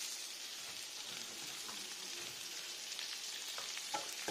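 Peas, potatoes and other vegetables with added salt frying and being stirred in a pan over low heat, giving a steady soft sizzle with faint scraping stirs toward the end.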